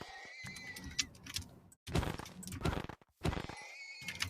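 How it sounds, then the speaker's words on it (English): A sped-up horse neigh used as a creature cry in a video game, several shrill chattering bursts broken by brief gaps, alongside crunchy clattering effects. "Is it just like a horse neigh, like sped up or something like that?"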